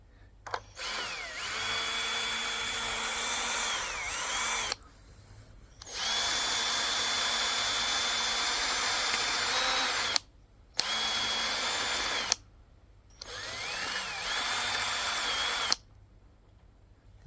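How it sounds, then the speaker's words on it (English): A power drill runs in four long bursts separated by short pauses, whirring close and loud while used to clean up waste oil heater igniter parts, with no talking. "I'll get the drill"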